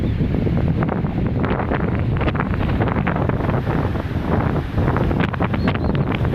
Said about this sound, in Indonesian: Kalau anginnya agak lumayan kencang ya guys ya, ombaknya seperti begini.